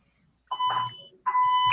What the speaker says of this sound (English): Oh, the fire alarm.